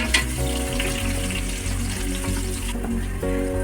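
Onions frying in a pan for tomato rice cooked in a small room, giving a steady, close sizzle with a sustained tonal layer running underneath throughout.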